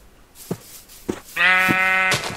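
Minecraft sheep give a single sustained, wavering bleat, loud and close, after a few soft clicks and taps.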